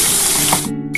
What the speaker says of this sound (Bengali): এবার আমি ভেজে নিচ্ছি বন্ধুরা। আমি ভোলা মাছটা এবার দিয়ে দিচ্ছি।